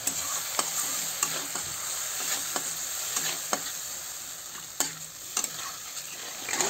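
Spice paste for a fish curry fries in oil until the oil separates, a steady close sizzle broken by repeated sharp scrapes and taps of a spoon stirring the pan.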